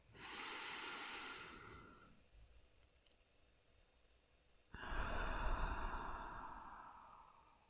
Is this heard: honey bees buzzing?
no